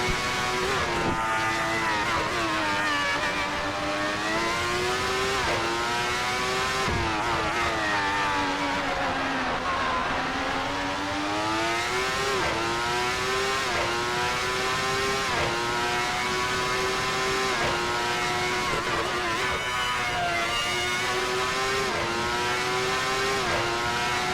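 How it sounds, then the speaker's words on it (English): A Ferrari 412 T2, the final V12 Formula 1 car, howls continuously at close range, its high-pitched engine note climbing and falling through gear changes and lifts for over twenty seconds, loud with no voices. "it's a V12 Formula 1 car, and it's the last one they ever made"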